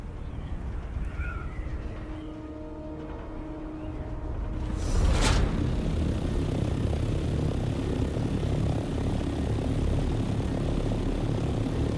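Aircraft-like engine drone from a flying vehicle in the game Dune: Awakening, a steady broadband roar that swells after a brief whoosh and then holds loud and constant with no talking.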